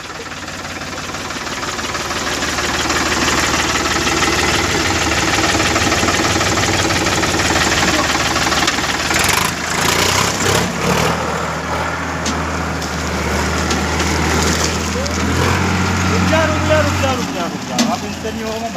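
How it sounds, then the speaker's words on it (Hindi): A Sonalika tractor engine cranking to life and settling into a loud, continuous idle, a close, rough rumble that holds steady with slight shifts in tone partway through. "ट्रैक्टर चालू कर रहा है।"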